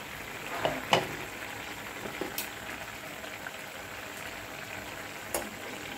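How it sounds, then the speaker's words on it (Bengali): Small-fish curry bubbles in a pan, giving a steady, fairly quiet crackle with a few sharp pops scattered through it and no voices. "তরকারিটা উতলে উঠেছে"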